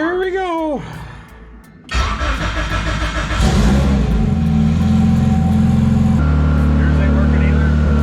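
A car engine starts on a dyno and runs in gear, a loud steady drone with a rising rev before settling into a constant hum, with people talking briefly near the start.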